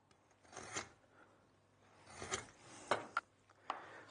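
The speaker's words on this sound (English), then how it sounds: "Just score down that line we've drawn." Knife or marking tool scoring wood along a drawn pencil line while building a saddle stand, heard as soft close rasping strokes in short bursts, followed by a few sharp clicks and taps.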